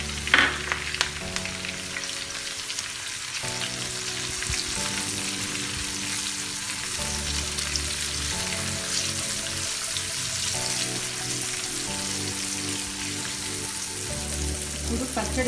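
Curry leaves fry in a pan for tomato chutney, a steady loud sizzle and crackle running throughout with faint scraping, no talking.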